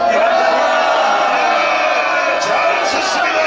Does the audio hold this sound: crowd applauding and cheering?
yes